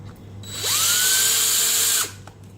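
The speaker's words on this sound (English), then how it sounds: "Now she's countersinking." A drill countersinks holes in wooden shelf supports: one short burst of about a second and a half, spinning up sharply, holding a high whine, then stopping abruptly, close and clear.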